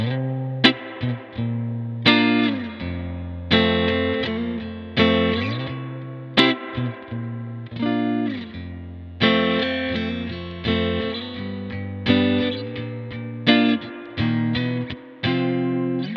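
A guitar played through an amp with a clean tone and reverb turned all the way up rings out in a series of strummed chords, each decaying into a wash of reverb, with no voices.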